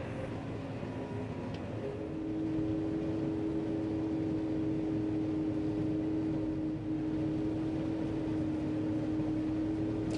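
A combine harvester working a wet corn field: a steady, droning engine hum with a sustained tonal whine, heard from inside the cab, constant for the whole stretch with no talking.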